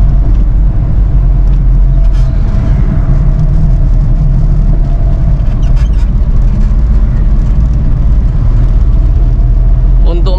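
A 1994 Suzuki Katana's small 1000 cc four-cylinder engine drones steadily at close range while driving, low rumble continuous throughout with some road and cabin noise.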